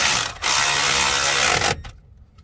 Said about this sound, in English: now I'm gonna go ahead and tighten up the bottom bolt for the alternator.